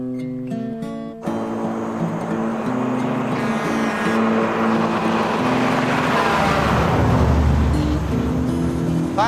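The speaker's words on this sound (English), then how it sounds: "It was a cattle truck." A cattle truck drives past on a country road, its engine note rising from a distant hum to a loud, close roaring pass, with no voices over it.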